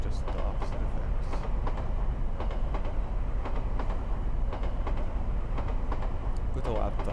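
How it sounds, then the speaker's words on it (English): A train braking to a halt rumbles steadily with broadband track and carriage noise, voices faintly mixed in throughout. "With a loud thunk and a squeal from the brakes, our train shakes heavily and comes to a halt."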